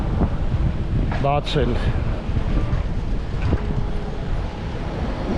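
Wind buffets the microphone outdoors on a Yerevan street, making a loud, steady broadband rumble that lasts throughout, with a few brief spoken words mixed in.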